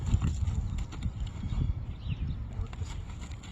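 A horse worked on a line moves and halts outdoors, its hoof falls and movement sounding as soft, uneven thuds over steady background noise.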